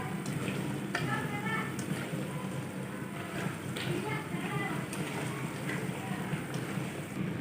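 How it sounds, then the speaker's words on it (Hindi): Namak pare fry in oil in a kadhai over a low flame, giving a dense, even sizzle that bubbles steadily throughout with faint crackles. "नमक पारे कढ़ाई में डाल दिए तो फ्लेम को बिल्कुल लो कर देंगे और पकने देंगे हल्की आंच पर"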